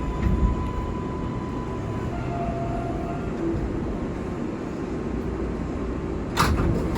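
An R142A subway car on the 6 local line runs between stations, a steady low rumble of wheels and motors with a faint tonal whine and a short rattling burst near the end; no voices.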